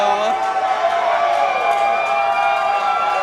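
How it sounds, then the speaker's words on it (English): A wrestling crowd at an 880 Wrestling tag team championship match roars loudly and steadily as Marco Narciso enters the ring, a dense, continuous wall of cheering that fills the whole space. "the crowd is going nuts for Marco"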